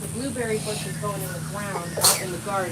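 A single sharp sneeze bursts out amid ongoing conversation in an outdoor garden while herbs are being repotted, brief and fairly close, with voices talking before and after it.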